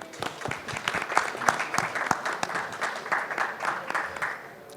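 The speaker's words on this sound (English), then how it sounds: "give a big round of applause" A panel audience at a green hydrogen summit in India breaks into applause, a dense, even wash of many hands clapping at moderate distance, sustained for several seconds.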